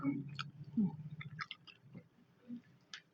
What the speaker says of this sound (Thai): กินปลาส้ม อร่อยไหม